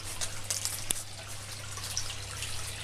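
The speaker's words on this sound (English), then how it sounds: "the water runs along the bottom" Water from an aquaponics grow bed trickles and gurgles through a drain pipe on its way to a sump, a soft steady flow with a few faint drips over a low hum.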